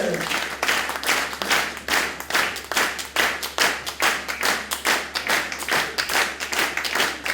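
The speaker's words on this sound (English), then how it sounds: "faire un tonnerre d'applaudissements à nos petites, moyennes et grandes danseuses" Rhythmic clapping from the audience at a dance gala for young dancers, rapid hand claps in quick regular bursts, moderately close and lasting throughout, over a faint low hum.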